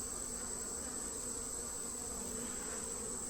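Honey bees on a frame of capped brood from a hive, a steady close buzzing drone with a high whine, continuous and alone with no voices.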